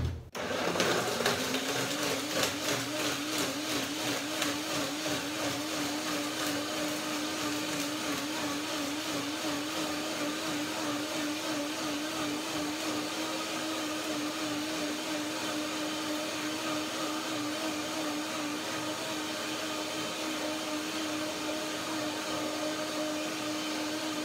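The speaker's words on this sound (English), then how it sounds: "Blender dance." A blender whirs steadily at close range after a sharp start, blending cashew cream, a continuous motor hum with no talking.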